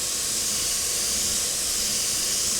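An airbrush sprays paint in a steady, loud, continuous hiss with no break, running without talk throughout.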